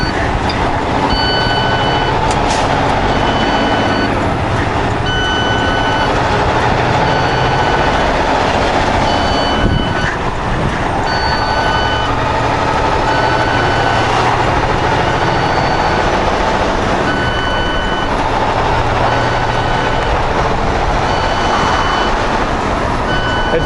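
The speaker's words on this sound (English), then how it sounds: "Very rare I get the clutch to beep at me" A truck's clutch overheat warning beeps in a steady repeating pattern over a loud, constant engine and cab drone, continuing unchanged for over twenty seconds with no talk.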